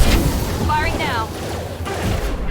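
Weapons fire in the Mass Effect 2 video game as heavy, rumbling booms. A voice briefly speaks over the blasts partway through.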